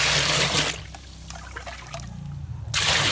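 Water trickles and splashes steadily between louder rushing bursts at the start and end, close by, with no talking.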